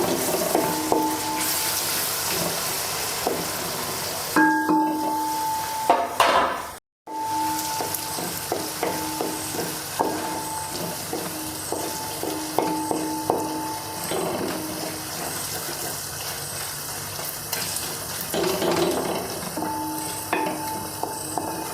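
Onions and tomatoes frying together in a pan for a beef curry, a steady close sizzle with occasional stirring and utensil clicks, no talking.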